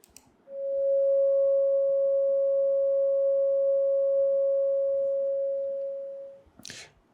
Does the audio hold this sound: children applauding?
no